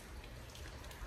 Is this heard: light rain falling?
yes